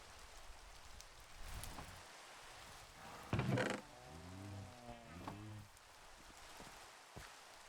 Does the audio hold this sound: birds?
no